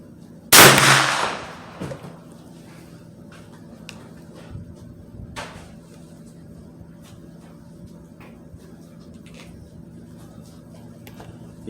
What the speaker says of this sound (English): Okay, first 3 shots without it.